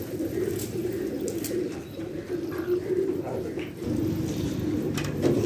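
Pigeons coo from a rooftop loft, a dense, low rolling murmur of many birds blended together, steady and fairly close, with faint scattered chirps above.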